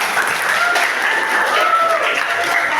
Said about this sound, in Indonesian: Aplaus dulu buat kalian